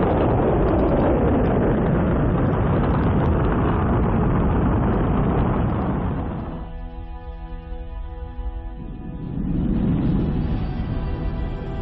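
Rocket engine starting at a Mars mission launch: a loud, broad roaring rumble fills most of the stretch, briefly thinning into a humming tonal lull before the roar swells again, with no voices heard.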